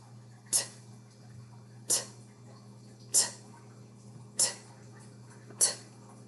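A voice imitates snoring turtles with a sharp, breathy "t" sound, repeated five times at even intervals of just over a second, close and alone.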